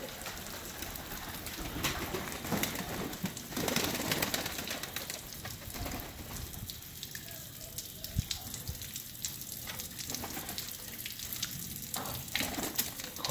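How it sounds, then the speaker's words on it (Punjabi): Pigeons are being bathed, with water splashing and fluttering mixed with soft cooing close by, in irregular bursts throughout and no speech. "ਅੱਜ ਕਬੂਤਰਾਂ ਨੂੰ ਨਵਾਈ ਦੇਈਏ"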